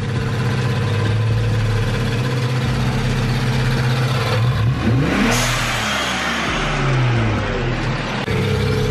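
Infiniti Q50 engine fitted with an HKS blow-off valve, revving up and dropping back in a steady loud exhaust drone, with a rising and falling rev sweep in the middle and no talking.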